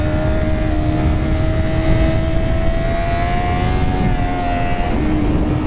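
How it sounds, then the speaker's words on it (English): A MotoGP video game motorcycle with a split throttle body setup drones steadily at high revs, a loud, buzzy engine note holding a near-constant pitch with a slight dip near the end, with no talk over it. "the sound of this split throttle body bugger"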